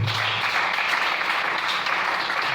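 A church congregation applauds to acclaim the Lord, a steady, dense wash of many hands clapping that holds at an even level from start to finish.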